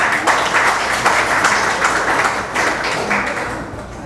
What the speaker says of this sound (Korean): 우리 임동규 의원님도 고생하는데 박수 한번 주십시오.